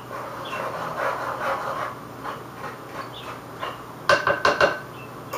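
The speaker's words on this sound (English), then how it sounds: "Mix the dry stuff real quick" Spoons scrape and clink against a bowl while dry ingredients get stirred, with soft irregular scuffing that gives way to a quick burst of sharp metallic taps near the end.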